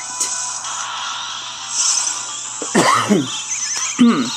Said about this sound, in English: There's one of those coughs.